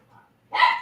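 Dogs in a house excitedly barking, one short distant yip followed by a louder single bark, close and brief.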